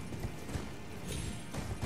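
Horse hooves gallop in Elden Ring, a steady, rhythmic clip-clop running continuously at moderate loudness over low game ambience, with no talk.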